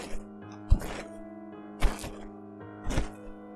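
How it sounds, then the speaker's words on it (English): Heavy, slow footsteps enter a barn as a sound effect: three deep thuds spaced about a second apart, each ringing briefly over a low steady hum, with no voices. "I heard footsteps entering the barn. They were slow, but produced a heavy thud with each step."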